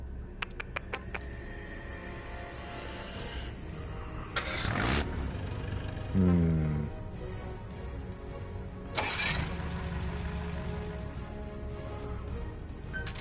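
An engine turns over and catches in the Metal Gear stealth game, a vehicle coming to life in the desert; a brief starter burst near the middle settles into a steady idling rumble, alongside scattered game effects.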